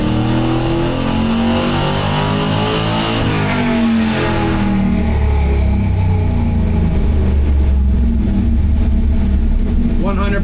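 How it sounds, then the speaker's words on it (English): A clean Chevrolet C10 truck with an LS3 V8 on a Holley Terminator X setup roars through a sustained full-throttle run, its loud engine note climbing steadily and staying near and continuous throughout. "Alright, now for the last full throttle run I think we need to make."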